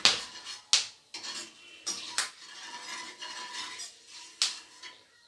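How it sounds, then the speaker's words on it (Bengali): Bay leaves, dried chillies and whole spices stirred in hot oil, with several sharp metal scrapes and clinks of a spoon against the pan over a soft sizzle, close and unhurried, without voices. "ফোড়নটাকে হালকা নেড়ে চেড়ে নেব।"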